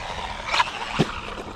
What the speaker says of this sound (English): There's something clicking.